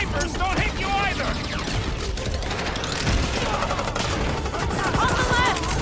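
Rapid gunfire from snipers and other weapons in the action game Marvel's Guardians of the Galaxy, a steady barrage of shots mixed with music, effects and character voices talking throughout.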